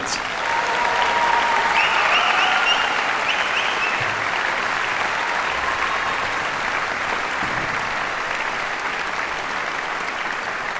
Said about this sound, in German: alle die Helferinnen und Helfer haben mal einen grossen Applaus verdient.